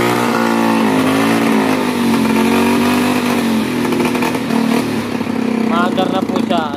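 A Novo Z motorcycle engine running rough and in need of a new carburetor, heard close and loud. It idles with an uneven, wavering drone, and a voice talks over it toward the end.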